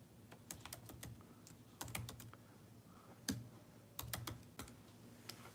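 Rapid typing on a computer keyboard, a steady run of close, crisp key clicks with short pauses and a few sharper keystrokes, heard alone with no talking.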